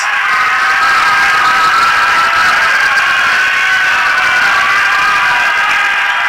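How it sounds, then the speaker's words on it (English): Loud, steady crowd roar at a boys' high school basketball game between Nowin and Connellsville, a dense wash of cheering and applause filling the gym without letup. "And it's greeted by a loud applause."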